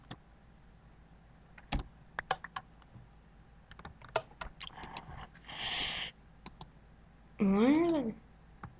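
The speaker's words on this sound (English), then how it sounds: "Yeah, this keyboard is slower than I am." Scattered clicks and taps of a computer keyboard being typed on, irregular and fairly close, broken by a couple of brief louder electronic bursts and a warbling tone near the end.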